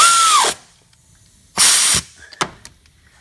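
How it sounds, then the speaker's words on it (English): A power tool whirs in short bursts while tightening the middle nut on a pulley during a serpentine drive belt replacement: two sustained loud whines separated by a pause, then a couple of brief blips. "Tighten the middle nut on the pulley."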